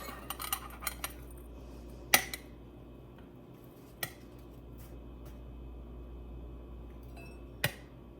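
A utensil clinks against a bowl while buttermilk ranch dressing mix is stirred together: a few sharp, isolated clinks spaced seconds apart over a quiet, low room hum.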